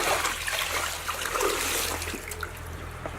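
Water tipped out of a bucket during a fish tank water change, a steady rushing pour that runs for about three seconds and tapers off slightly at the end.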